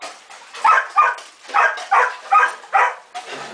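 A dog on a farm gives a run of about six sharp, close barks mixed with whimpering yelps, loud and fairly regular, with a softer whine trailing at the end.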